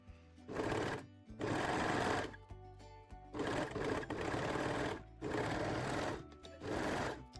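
A sewing machine stitches the back crotch seam of jersey and lace panties, running in several loud, steady bursts separated by short pauses.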